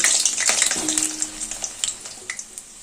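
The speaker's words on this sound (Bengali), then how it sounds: "এবার এই তেলে আলু ভেজে নেব।" Small whole potatoes fry in hot oil, giving a steady bright sizzle broken by light crackles and a few soft clinks or stirring taps, close and moderately loud.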